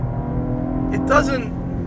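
Steady engine drone inside a Cadillac ATS-V sedan cabin, its V6 a low harmonic hum throughout with a brief rise in pitch near the middle, faint voice-like sounds over it.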